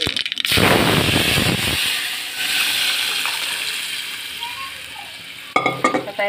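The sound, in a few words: spice tempering crackling in hot oil with cumin, mustard, curry leaves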